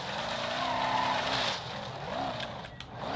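Race car in BeamNG.drive driving at full speed, a loud, continuous engine whine with sweeping pitch rises and falls as it shifts, with tire noise and a brief scuffing skid near the end.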